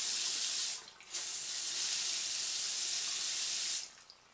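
Water rushing steadily from a bathroom faucet with its aerator off, run to flush rust and debris from the lines. The loud, close stream briefly drops out twice as the tap sputters air, then surges back.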